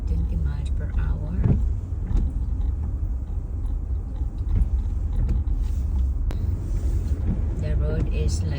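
A car creeps along a used but unplowed snowy winter road at about 20 mph, a steady low rumble with creaks and small mechanical knocks, while a person talks over it throughout.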